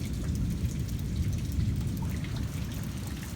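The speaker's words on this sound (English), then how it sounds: "Yeah, got some rain out of that one." Steady rain falling outdoors during a storm, a soft continuous patter with low thunder rumbling underneath, fairly close and even throughout.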